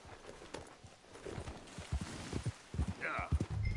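Horse hooves gallop in Red Dead Redemption 2, a rhythmic run of clip-clopping beats at moderate volume, with voices talking over them.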